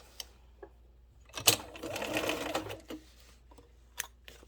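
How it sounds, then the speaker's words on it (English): A sewing machine stitches elastic in one short burst of rapid needle chatter, with a few isolated clicks and taps from handling the fabric before and after. "just maybe 1 or 2 forward and back stitches"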